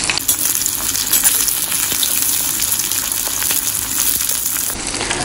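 Vertically sliced onions frying in oil for a Malvani masala, a loud, dense and continuous sizzle with light crackles throughout, close up and without talk.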